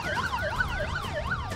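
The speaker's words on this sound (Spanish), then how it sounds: "sale la ambulancia" Wailing ambulance siren rising and falling in rapid, regular cycles, loud and fairly close, with faint traffic rumble underneath.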